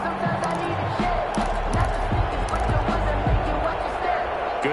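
Stadium crowd in the video game Madden 21, a Titans vs Jaguars football game, roaring steadily throughout with dense babble and thumping low rumble, loud and continuous.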